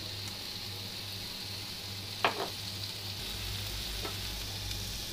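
Soybeans, pork and yellow tofu stir-fry in a wok with steady crackling sizzle, a constant bright frying hiss, broken by a couple of sharp utensil clinks midway.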